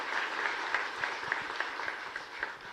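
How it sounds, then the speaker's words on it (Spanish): Congregation at a Catholic Mass applauding in San Miguel Arcángel parish church, San Lorenzo, a soft, steady patter of clapping heard from a distance for a few seconds. "nuestro Padre querido Víctor Cabaña, vamos a darle un fuerte y caluroso aplauso, por favor."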